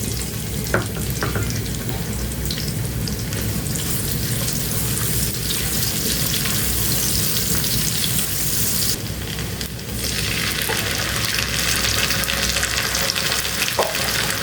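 Onions frying in hot oil in a pan with whole garam masala spices (bay leaf, cinnamon, cloves, cardamom) for beef haleem, giving a loud, steady, close sizzle throughout with a few brief clinks.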